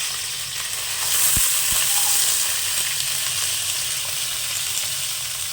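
Mustard-seed tempering and curry leaves sizzle steadily in hot oil for a spicy semiya upma, a close, continuous frying hiss with two brief utensil knocks partway through.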